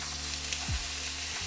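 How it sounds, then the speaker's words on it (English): Ground chuck with 80/20 fat sizzles quietly in a hot pan as it is broken into crumbles, a soft, steady frying hiss with a brief scrape partway through. "Listen to that little sizzle"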